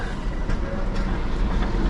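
A loud, continuous rumble of a tram or train rolling past close by, with rattling wheels and no voices.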